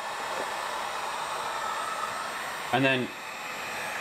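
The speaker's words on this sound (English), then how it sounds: "It's usually best if you let the heat gun warm up for a second so it's consistent and nice and hot." A heat gun blows hot air onto sun-faded plastic as a steady, airy whoosh, close and continuous, with a brief spoken interjection near the end.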